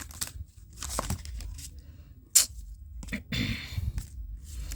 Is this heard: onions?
no